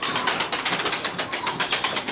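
Arabian tumbler pigeons flap their wings in quick, regular pulses, close and fairly loud, with soft cooing blended in throughout.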